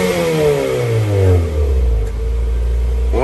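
A 2020 Nissan Altima SR engine revs hard, pitch sweeping up then dropping back to a deep, loud idle rumble, close by.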